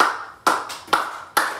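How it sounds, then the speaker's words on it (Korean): Sharp hand claps at an even, steady beat, four in quick succession, as a Korean church congregation claps along to a hymn at a Wednesday service. "그냥 박수 치면서 이 찬양하겠습니다"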